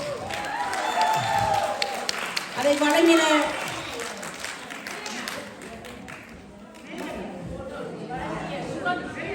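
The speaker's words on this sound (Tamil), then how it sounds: "எங்கே உங்கள் கரகோஷம்?" Audience applause at a Women's Day event in Leicester, a busy crowd clapping that swells and fades over several seconds, mixed with chatter and a speaker's voice talking over it.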